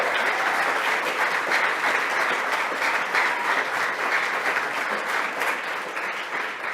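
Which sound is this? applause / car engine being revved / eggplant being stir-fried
applause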